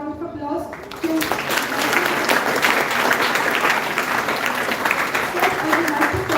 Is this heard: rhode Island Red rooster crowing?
no